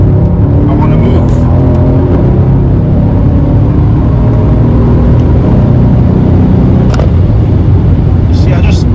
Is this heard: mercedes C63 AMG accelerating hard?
yes